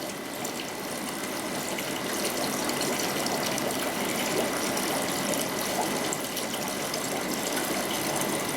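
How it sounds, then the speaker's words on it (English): Aquarium gravel cleaner siphoning water and muck up its tube from stirred tank gravel, a steady, close rushing gurgle of flowing water that continues without a break. "Push that in there, you can see all the muck going up the tube. Gravel's getting stirred up"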